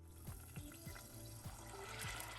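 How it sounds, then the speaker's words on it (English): Liquid is poured over rice in a pot while making Puerto Rican arroz con gandules, a steady faint trickle and splash with soft bubbling pops. "go ahead and pour it over"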